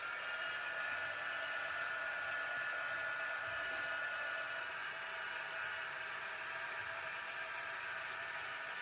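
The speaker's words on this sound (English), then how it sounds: "I'm just going to warm up my heat tool and we'll give them a good blast" A heat tool blows a steady, even rush of hot air over paper craft flowers, a constant whooshing whir holding unchanged throughout.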